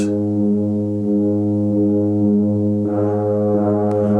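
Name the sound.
tuba playing low bass notes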